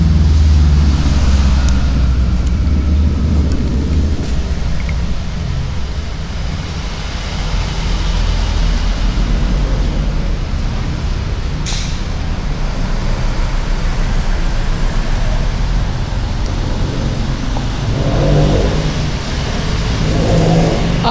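A used motorcycle for sale in Dagupan runs loudly and up close, its engine churning in a constant, rough drone with slight swells in revs for the whole stretch.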